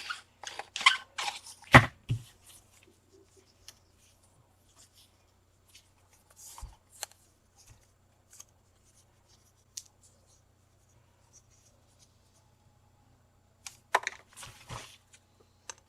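Scissors cut paper slips for contest entries, giving a few quiet close snips and paper rustles in short clusters separated by long near-silent gaps.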